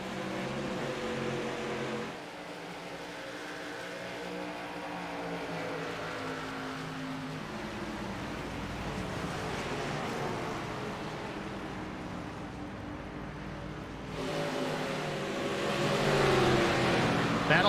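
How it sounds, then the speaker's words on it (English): ARCA Series stock cars racing at New Hampshire Motor Speedway, a steady loud engine roar with rising and falling pitch as cars pass, swelling near the end. "Battle on the track right now, Jamie Kerr and Brian Rupert."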